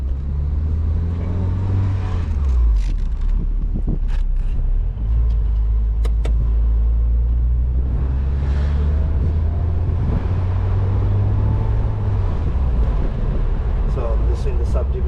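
Porsche 944 driving slowly through a residential subdivision, its engine rumbling steadily with audible gear changes and rising and falling revs, close and continuous, while a person talks over it.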